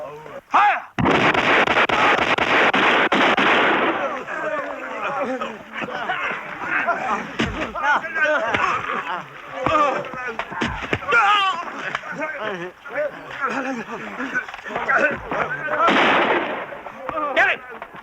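Gunfire after a shouted command to fire in a 1978 TV drama: a loud, sustained burst of rifle volleys lasting a few seconds. Shouting and agitated voices follow, with a second short burst of gunfire near the end.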